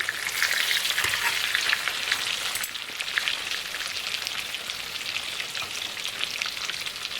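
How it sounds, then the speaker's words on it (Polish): Pork cutlets sizzle and crackle steadily in a hot pan, a dense continuous frying hiss at close range with no voices. "smażymy te kotlety z 5-7 minut z obu stron obracając, żeby nam się nie spaliło"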